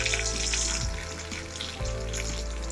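Cumin seeds and garlic sizzle in hot oil in a pan while cooking a Marathi capsicum bhaji, a steady close frying hiss with a couple of soft stirring bumps.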